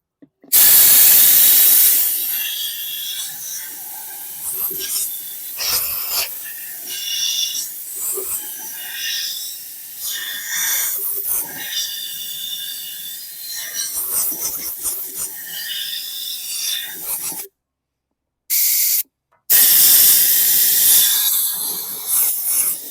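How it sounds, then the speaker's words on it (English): Compressed air blasting through the carburetor of a 2018 high-wheel Bolens lawn mower with water in the gas, loud close hissing bursts repeated in short pulses with brief pauses. "I'll blast this out with some compressed air and go to town on the"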